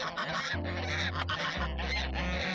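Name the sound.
male geese honking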